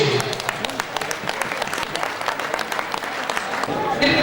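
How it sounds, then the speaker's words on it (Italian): A crowd applauds at a cyclocross award ceremony in Vittorio Veneto, with steady dense clapping throughout, moderately close, and a voice faintly present in the background. "mancano solamente i vostri applausi."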